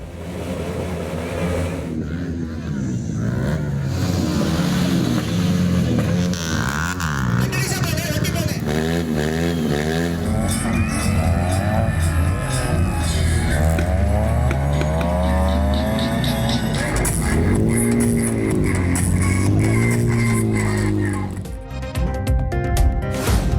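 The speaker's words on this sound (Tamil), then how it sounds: "திருப்பூர் மாவட்டத்தில் தனியார் கல்லூரியில் நடந்த ஸ்டண்ட் நிகழ்ச்சியில் சீறி பாய்ந்த வாகனங்கள்" Cars and motorbikes roaring through a stunt show at a private college in Tiruppur district, engines revving and rising in pitch in repeated bursts, with tire squeal, loud and close amid crowd noise.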